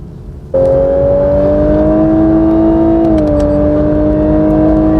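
A Lexus LC500 accelerates hard down a race-circuit straight, its engine a loud, close, strained tone climbing steadily before a brief dip at a gear change, then pulling on, with no talking.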